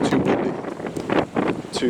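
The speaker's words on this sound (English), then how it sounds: "too windy, too unpleasant." Heavy, gusty wind buffets the microphone in loud rumbling bursts, with speech partly heard under the roar.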